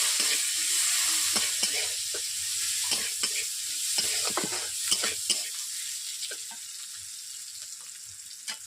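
Chopped onion dropped into hot oil with reddened whole spices and chilli sizzles steadily, with frequent sharp scrapes and knocks of stirring close up; no talking.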